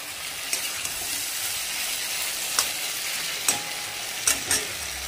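Kochur loti (taro stolons) with shrimp and spices sizzling in hot oil, a steady broadband fry hiss running the whole time, with a few sharp spoon scrapes or stirs standing out near the end.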